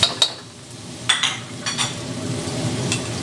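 Black beans hit a smoking-hot wok and set off sharp bursts of sizzling and crackling, followed by steady frying hiss, close and fairly loud with nobody talking.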